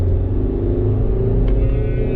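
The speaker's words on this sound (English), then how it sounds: "we are driving the WRV diesel." Honda WR-V 2020 BS6 facelift with a 1.5-litre diesel engine driving on the road, a steady close low rumble of engine and road noise throughout, no talking.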